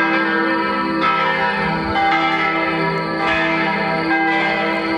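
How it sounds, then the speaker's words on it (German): Church bells peal steadily outdoors during a walk in nature, a loud, continuous ringing with layered sustained tones and periodic fresh strikes, with no talking. "Die Dämonen sollen die Glocken hören."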